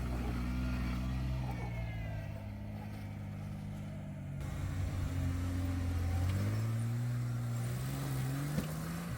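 Vintage Jeep engine working up an off-camber rock ledge on a winter 4x4 trail, a steady low motor drone that rises and falls in pitch as the throttle changes, heard from a moderate distance.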